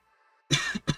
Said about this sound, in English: give me a second to cough